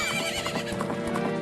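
Horse in The Legend of Zelda: Ocarina of Time and Majora's Mask, with a whinny over a steady clip-clop of galloping hooves, loud and continuous throughout with game sounds mixed in.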